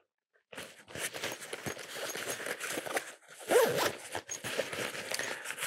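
Zipper on the mesh pocket of a Pentagon Consul Sling shoulder bag, pulled in two quick rasping strokes, close and loud with no talk.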